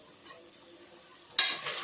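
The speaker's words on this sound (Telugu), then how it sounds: "పేస్ట్ చేసి పెట్టుకున్న అల్లం వెల్లుల్లిపాయ వేసుకుందాము" Ginger-garlic paste drops into a hot pan for a country chicken gongura curry: quiet stirring at first, then a sudden loud sizzle that stays strong to the end.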